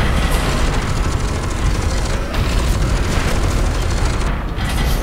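A loud rocket blast in the shooter game F.E.A.R. 2, heavy booming explosion energy filling the whole moment with rumbling low end and crackling debris, followed by a brief dip near the end.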